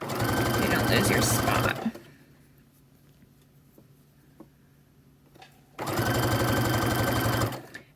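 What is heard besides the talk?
sewing machine stitching fabric for a scrunchie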